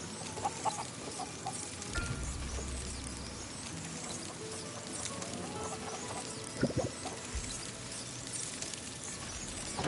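Chickens cluck softly and intermittently in the farm area of the video game Surviving the Aftermath, faint and mixed with low game ambience and background sounds.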